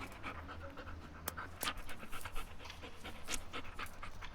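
A dog pants steadily in quick, breathy rhythmic bursts, fairly close, with occasional sharper clicks and noises from a car setting in the background.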